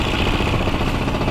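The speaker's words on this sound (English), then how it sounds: "Excuse my exhaust, it's just rattling like crazy." A turbocharged Lexus IS300 idles with a loose exhaust rattling hard, a steady dense clatter and drone close by, with no talking.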